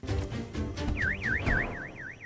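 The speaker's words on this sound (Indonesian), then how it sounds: "alarm mobil tersebut berbunyi" A car alarm blares out of a film scene in a loud repeating two-tone warble, the rising and falling wail cycling about five times over steady background noise and no speech.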